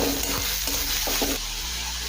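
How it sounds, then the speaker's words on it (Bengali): Onions frying in oil in a wok, a dense continuous sizzle with stirring scrapes and clatters, close and steady throughout. "পেঁয়াজটা হালকা লাল করে ভেজে নেব।"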